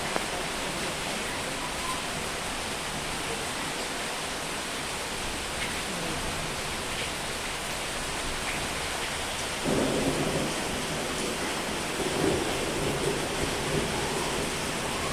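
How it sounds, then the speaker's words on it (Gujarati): Heavy rain pours steadily at night in a dense hiss, with a low rumble of thunder swelling partway through. "જૂન મહિનાના આજે કદાચ પહેલો દિવસ છે વરસાદ આવી ગયો"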